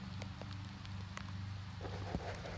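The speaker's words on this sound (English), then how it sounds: "Oh, and it's starting to rain now." Rain begins falling outdoors as a faint, steady patter of light drops on surfaces, a soft continuous hiss with a few scattered taps and no voices.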